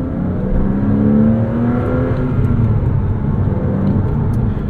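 A 2006 Porsche Cayman S with a six-speed manual, its mid-mounted engine pulling hard under acceleration, a steady loud drone rising in pitch, heard from inside the cabin with no talk.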